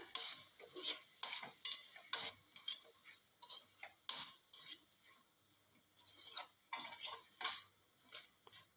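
Onions, slit green chillies and coriander sautéing for chicken gravy, with a spoon scraping and tapping the pan in a steady rhythm over a faint sizzle, quiet and close, no voices.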